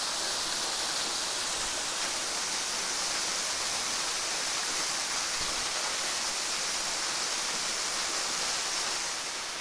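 A waterfall on a day-hiking route in Alabama, among cliffs and big boulders, gives a steady, broad rushing roar that holds evenly throughout with no voices.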